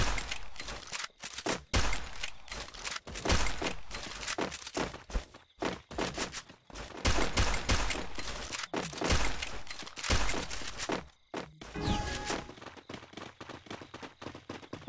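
Gunfire in the mobile video game Free Fire Clash Squad ranked mode, dense loud bursts of shots and impacts broken by brief pauses, ending in a few tonal game sounds.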